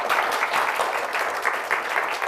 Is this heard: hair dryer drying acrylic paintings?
no